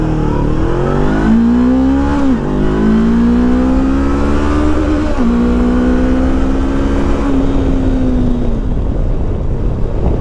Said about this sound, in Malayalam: so let's check the 0 to 100 of NX 500